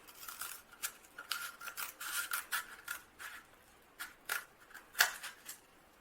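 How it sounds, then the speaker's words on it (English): Scissors cutting lengthwise through a cardboard toilet paper roll, a quiet series of short scraping snips and rasps in uneven bursts, close by with no talking. "using this and the scissors, you're going to cut the long way across the toilet paper roll"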